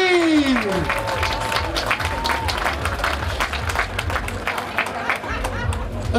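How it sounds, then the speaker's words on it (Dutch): A crowd at a cyclocross race podium ceremony in Maldegem claps steadily for the elite men's winners, dense applause under an announcer's amplified voice and background chatter. "En uw applaus voor ons podium, Laurens Zweek, David van der Poel, Tim Merl"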